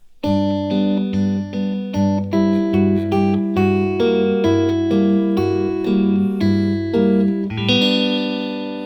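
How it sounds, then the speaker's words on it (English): Stratocaster electric guitar plays a sequence of chords moving from major to minor major 7 add 6 voicings, each chord strummed and allowed to ring with reverb in a steady rhythm, clear and close with no talk. "where a major chord moves melodically to a minor major 7"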